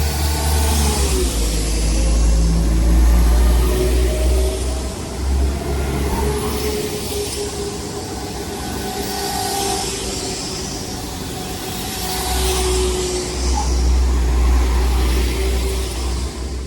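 Chiltern Railways diesel unit 172338 pulls out of Dorridge station on the 15:09 service to Worcester Foregate Street, its engine rumbling loudly and steadily while rising tones climb and fade as it accelerates away.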